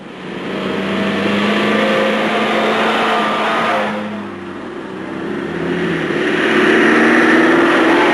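GTI hatchbacks run on the Montlhéry racetrack, a loud continuous engine roar that dips briefly partway through and then swells again as the cars push on.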